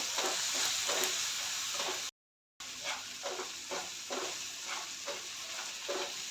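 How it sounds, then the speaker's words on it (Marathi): Tomatoes frying with masala, coriander powder and salt in a pan for spicy masala prawns, giving a continuous sizzle with rhythmic stirring scrapes and a brief dropout of total silence partway through. "हे चांगलं आपला टोमॅटो सॉफ्ट होईपर्यंत चांगला मसाला होऊ देऊया"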